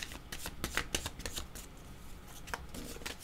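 Tarot cards being shuffled for a new draw, a steady run of soft riffling flicks and slaps close by, with no talking.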